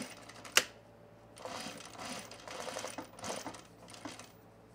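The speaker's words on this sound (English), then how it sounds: "So now we're just gonna sew them in there." A sewing machine stitches across a tool belt in short bursts of rapid mechanical chatter, several runs separated by brief pauses after an initial sharp click, close and fairly quiet with no voices.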